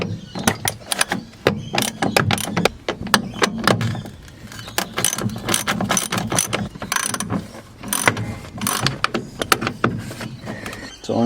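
Ratchet wrench clicking rapidly and steadily while undoing 12mm bolts on a Toyota Coaster brake master cylinder, with metallic clinks between bursts, close and fairly loud.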